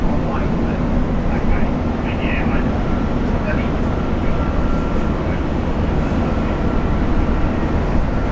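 A Solomon Airlines plane at Brisbane International Airport produces a continuous broadband jet roar that stays steady and fairly loud throughout, with a faint murmur of voices underneath.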